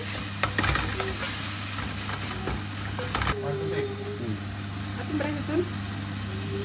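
Slit green chilli for Goan prawn curry crackling in a hot oily pan, a steady close sizzle with stirring clatter, under a low constant hum and some background speech.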